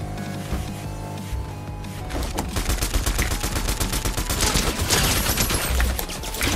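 Rapid submachine gun fire in a ranked video game match: a dense, loud stream of shots that starts after a brief lull with a low hum and keeps up steadily to the end.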